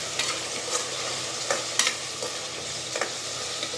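A spoon stirs soya chunks with biryani masala in a sizzling pan, making repeated close scrapes and taps over a continuous frying hiss.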